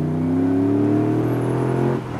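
TVR V8S engine revving hard under acceleration, a loud, close, rising V8 roar heard from inside the car, easing off briefly near the end, with no talk over it.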